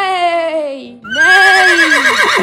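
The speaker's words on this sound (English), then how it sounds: "Here we have a horse, and a horse says," A horse neighs close up in two loud, shrill whinnies, the second longer and quavering as it trails off.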